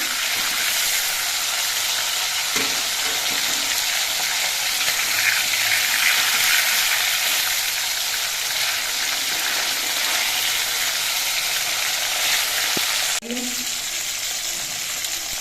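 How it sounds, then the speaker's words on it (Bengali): Fish frying in a wok with turmeric, a bright, constant hiss of hot oil that stays loud and steady, then briefly shifts near the end as the pieces are moved. "মাছগুলো আমি উল্টে পাল্টে নিয়ে একটু কড়া করে ভেজে নিয়েছি"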